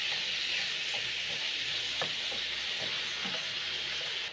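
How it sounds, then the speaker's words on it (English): Meat browns in a hot pan with a steady, even sizzle of frying, punctuated by occasional soft clicks and stirring scrapes. "You're going to cook your meat until it is browned and looking very delicious."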